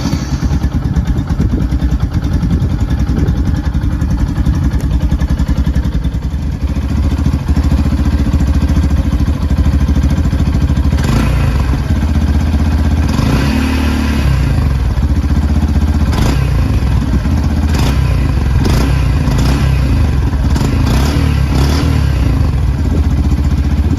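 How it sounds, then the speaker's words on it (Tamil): A 2021 Yamaha FZ-X motorcycle's exhaust rumbles loudly and steadily with a refined tone, with a few sharp rising revs toward the end, recorded close up. "yamaha FZXோடைய எக்ஸாஸ்ட் சவுண்ட் நல்லா ரிஃபைன்டு சவுண்டாக இருக்குது."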